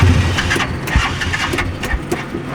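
A rickshaw engine being cranked and started, a close, rough, sputtering mechanical churn with uneven bursts and knocks over about two and a half seconds, heard without speech.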